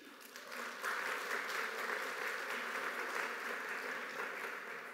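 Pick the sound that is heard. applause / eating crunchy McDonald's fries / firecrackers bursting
applause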